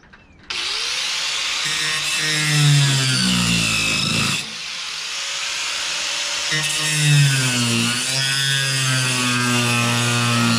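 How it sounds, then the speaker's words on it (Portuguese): Angle grinder cutting through the sheet-metal body of a Kombi van, a loud, steady whine with shifting pitch that dips briefly mid-cut before resuming at full strength, close and continuous. "Eu vou ter que cortar com a lixadeira, com a esmerilhadeira."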